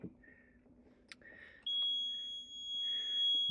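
A Mammotion Spino E1 pool cleaner charger gives a short beep, then a sustained high electronic tone as it is plugged in, clear in a quiet room.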